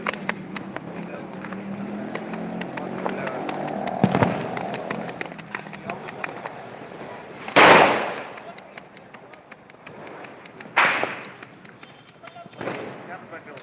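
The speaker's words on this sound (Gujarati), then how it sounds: "અહીંયા ભાઈ પણ ફટાકડો જેગવી રહ્યા છે અને ફટાકડો ફોડી રહ્યા છે" Firecrackers bursting during a festive night outdoors, sharp loud blasts near at about 7.5 and 11 seconds over a steady bed of distant crackling pops and rumbling bangs, with faint voices in the background.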